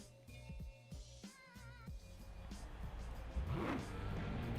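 A 1968 Mustang GT500 engine in Forza Horizon 4 idles with a deep, steady burble, then revs up loudly, its pitch climbing over the last second or so.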